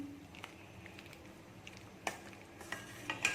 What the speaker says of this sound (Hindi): अब हम इसमें ऐड करेंगे ब्रेड क्रम्स और फिर इसको अच्छे तरह से मिक्स कर लेना है